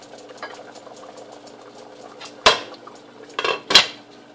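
A metal lid clatters onto a cooking pot of simmering butter chicken gravy, two sharp clanks with a scrape between, loud and close over a quiet kitchen background.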